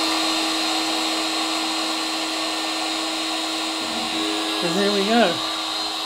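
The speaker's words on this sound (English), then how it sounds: "Now it's going to take a run at it. Tool change is not required. There goes the spindle." A lathe spindle driven with an electronic leadscrew runs as a steady motor hum, with a rising, wavering whine near the end. Someone speaks briefly.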